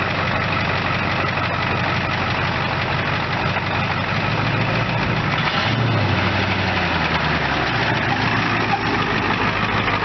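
A 1991 Ford F250 with a 7.3 IDI diesel engine idles steadily and loudly, a continuous low clattering rumble with a slight swell partway through and no talking.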